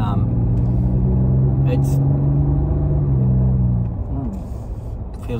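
A tuned Ford Raptor Ranger with a twin-turbo V6 idles close by, a steady low rumble with a faint tonal hum that drops slightly toward the end, while a voice speaks briefly over it.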